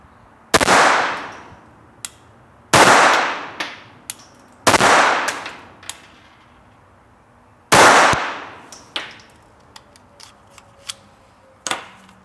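A Mauser HSc pistol fired on a range, four sharp loud shots at irregular intervals, each followed by a short ringing decay, with small metallic clicks and handling noises between them, no voices.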